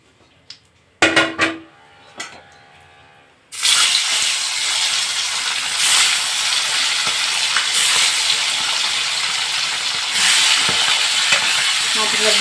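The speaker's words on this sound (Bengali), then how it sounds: "তো এক একে করে আমি মাছগুলো ভেজে নিব।" Pieces of tilapia go into hot oil. After a few clanks, a loud, continuous sizzling hiss starts and carries on steadily, close by.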